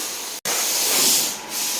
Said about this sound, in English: they're spraying, they're sending some dust all over the place